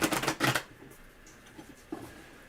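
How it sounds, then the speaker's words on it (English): Tarot cards being shuffled: a quick burst of riffling for about half a second, close and crisp, then near silence with faint handling. "You shuffled, right?"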